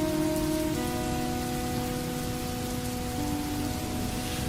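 Rain patters steadily on a car as it drives, a dense even hiss of drops on the body and glass over a low engine drone with faint tonal hum, with no speech.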